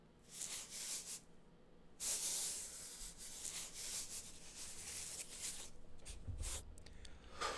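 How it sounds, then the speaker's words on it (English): Soft dry rubbing of fingers over the fuzzy skin of an organic peach, close up, in a series of brushing and hissing strokes with brief pauses and no talk. "rubbing the fuzz on the outside of it"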